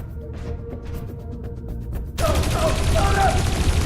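Gunfire in the video game Dreamfall Chapters: a loud, dense volley of shots bursts in abruptly after a stretch of quieter, sparse ambience with faint clicks, then keeps firing steadily to the end.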